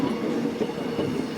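A train rolls along the rails of the line to Jeongdongjin in Gangneung, Korea, a close, steady rumble with soft wheel clatter, heard for a brief moment.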